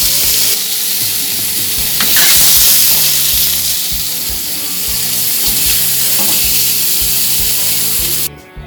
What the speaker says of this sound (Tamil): கத்திரிக்காயும் குழம்பும் வேகுது.